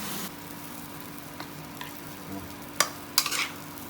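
Shrimp or squid stir-fry gets a brief stir in a pan over a gas flame: a soft background hiss with light scrapes and a couple of sharp metallic clicks near the end.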